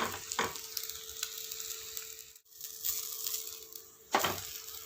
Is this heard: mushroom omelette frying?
yes